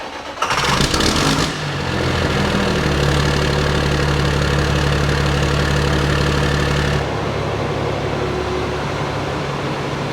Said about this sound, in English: Ladies, start your engine.